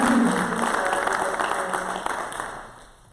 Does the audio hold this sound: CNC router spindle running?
no